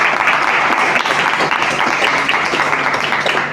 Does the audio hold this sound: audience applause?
yes